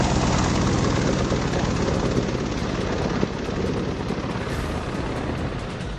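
Chinook and Apache military helicopters at a high-altitude landing ground in Ladakh, their loud, steady rotor and engine roar filling the air continuously and close by, with no speech.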